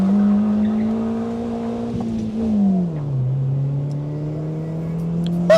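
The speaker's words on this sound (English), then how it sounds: "for a car that's not meant to be like sporty or anything, it's just a Mini Cooper, not even the S" A Mini Cooper, a non-S model, drives and accelerates on a road in Wales, its engine droning loud and close with a steady climbing pitch that drops sharply at a gear shift, then builds again.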